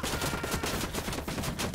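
Sustained gunfire from a Ghost Recon Wildlands firefight, with rapid overlapping shots in a dense, steady burst of automatic fire throughout, loud and close.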